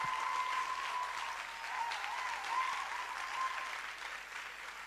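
Faint, distant applause from an audience at a digital café gathering in Libreville, an even wash of clapping with a thin steady tone running through it.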